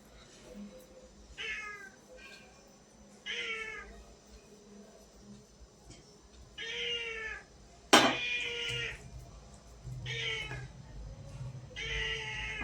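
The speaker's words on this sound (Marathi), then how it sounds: "आमचा मांजराचा वरडण्याचा आवाज येत असेल तुम्हाला." A cat meows repeatedly in a home kitchen where Khandeshi patole are being rolled and shaped by hand, several rising, drawn-out cries spread through the clip with a sharp clatter midway and faint household noise underneath.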